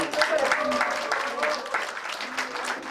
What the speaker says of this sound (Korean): 크게 한번 박수 쳐주시면